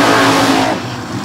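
A drag racing car roars loudly as it accelerates hard down the strip, the engine noise fading as it pulls away within about a second.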